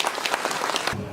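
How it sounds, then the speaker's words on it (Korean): An audience at a remodeling project briefing for a Daebang-dong apartment complex bursts into steady applause for about a second, dense hand claps all at once. The clapping stops suddenly and leaves a low murmur. "박수 한번 쳐주시겠습니다"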